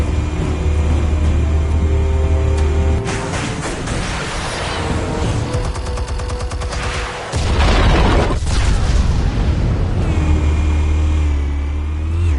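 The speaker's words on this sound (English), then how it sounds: "Explosives armed. Fire when ready." Explosives detonating in a PS4 video game: a sharp, loud burst of booming blasts erupts midway over a continuous engine-like drone, then the low rumble carries on, with no voices.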